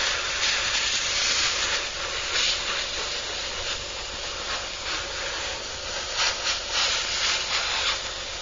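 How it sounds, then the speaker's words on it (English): An airbrush compressor hisses steadily and close by while paint is sprayed on a Trumpeter 1/32 F-8 Crusader model kit, the airflow rising and falling slightly, with no one talking. "We'll just turn that compressor off a sec."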